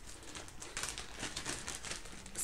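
A hand rummages inside a crinkly bag, producing a steady stream of close, rustling, crackling plastic crinkles with no speech over them.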